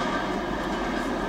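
A CSX freight train of hopper cars rolls past close by, a steady, loud, continuous rumble with no breaks and no voices.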